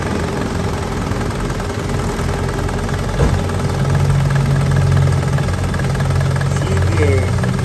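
A Mitsubishi L300 van engine runs at a steady idle after starting, a continuous low mechanical drone with a brief knock near the middle, close by and fairly loud.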